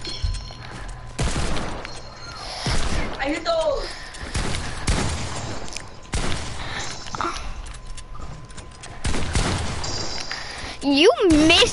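Fortnite video game gunfire: scattered bursts of shots and cracking impacts spread across the match, alternating with quieter stretches while players talk over the action.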